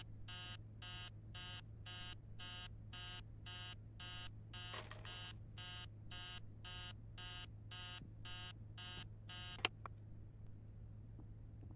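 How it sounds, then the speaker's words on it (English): An alarm clock rings inside the horror game Emily Wants To Play, a steady run of rapid electronic beeping bursts lasting about ten seconds before it cuts off, heard alone over a low constant hum. "Dumb alarm."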